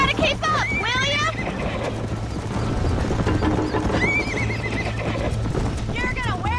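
A galloping horse in the Red Dead Redemption video game, with rapid hoofbeats running throughout and several loud whinnies rising above them, while people talk over the ride.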